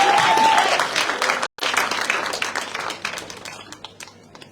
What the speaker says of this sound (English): Clap for Akila.